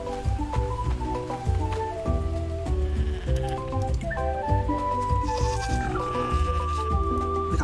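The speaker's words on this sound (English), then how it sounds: "and then it's raining, so the animals are not going to go outside today." Rain in the farming video game Roots of Pacha, a pattering rain layer beneath a tuneful game soundtrack of plucked and sustained melodic notes, with soft animal bleats mixed in.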